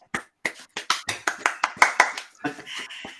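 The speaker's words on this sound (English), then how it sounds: "Thank you for the applause." A small studio audience claps to welcome a guest onto a sales show, about a dozen distinct, fairly close claps coming in quick irregular bursts before the clapping thins out and stops.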